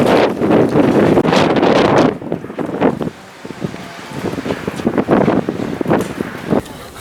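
Gusty wind buffets a microphone outdoors on a windy day, with loud low rumbling bursts that rise and drop irregularly, a brief lull in the middle, and faint voices underneath.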